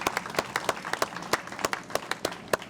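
Audience applauding transit employees at a press event marking fifty years of service, with sharp, scattered individual claps from a modest crowd, fairly even in pace.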